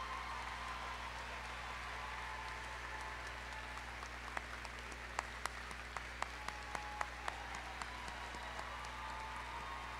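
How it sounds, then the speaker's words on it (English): A commencement audience applauds faculty and staff in a large hall, a distant, steady wash of clapping over a low hum, with a few sharper nearby claps standing out toward the middle. "A round of applause for the faculty and staff"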